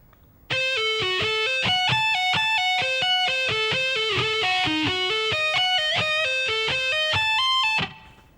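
Slow distorted electric guitar solo lick with hammer-ons and pull-offs, a steady run of sustained, evenly spaced notes played alone at a loud, even level before ringing out.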